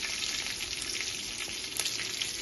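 Mango frying in a pan, a constant close hiss of hot oil with scattered sharp pops and crackles running through the whole stretch, no voices.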